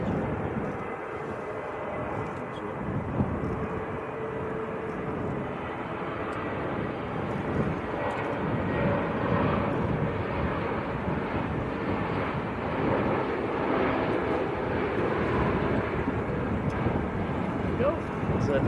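EasyJet airliner from Innsbruck at Manchester Airport, a steady broad roar of jet engines continuing throughout with wind buffeting on the microphone and people talking faintly nearby.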